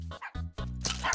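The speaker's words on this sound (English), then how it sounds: "there are dogs everywhere" Dogs in the Minecraft video game give a short burst of yips and barks, close and loud, packed into about a second.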